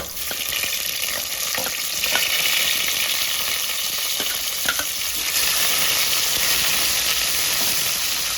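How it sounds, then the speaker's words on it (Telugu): Cumin, curry leaves, chopped garlic, green chillies and onion frying in oil for a dhaba-style chana dal curry, a continuous close sizzle with occasional stirring scrapes. "జీలకర్ర కరివేపాకు వెల్లుల్లి ముక్కలు పచ్చిమిరపకాయలు వేయాలి ఉల్లి ముక్కలు వేయాలి"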